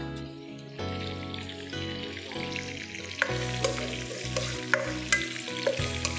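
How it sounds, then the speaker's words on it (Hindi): Chopped ginger and garlic sizzle steadily in hot oil in a pan, a continuous close frying hiss with occasional stirring scrapes and no talk. "इसको हम अच्छी तरह से थोड़ा सा फ्राई करेंगे, खुशबू आने लग जाए हमारी अदरक लहसुन की"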